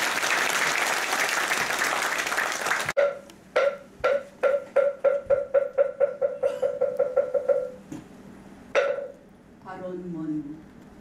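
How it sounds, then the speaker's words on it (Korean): A crowd at a Buddhist association's inauguration ceremony gives a monk a round of applause. The dense clapping lasts about three seconds and stops abruptly. A steady series of sharp rhythmic wooden knocks follows, then a brief voice. "예능 스님께 다시 한번 큰 박수 부탁드리겠습니다."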